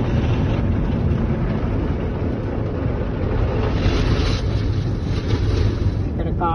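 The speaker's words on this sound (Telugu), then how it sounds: "ఇక్కడ అంతా ఇప్పుడు క్లీన్ చేసేస్తుంది, కార్ని మొత్తం వెట్గా తయారు చేసేస్తుంది" Automatic car wash at a Take5 Car Wash in America wetting the car, heard from inside the vehicle: a steady, loud wash of water spray and rumbling drum against the body, continuous throughout with a muffled low roar.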